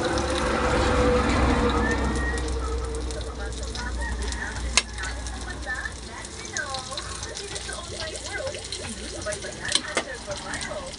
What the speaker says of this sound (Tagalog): Para kung magkulay golden brown na yung sibuyas bawang, magprito na rin yung kikiam natin.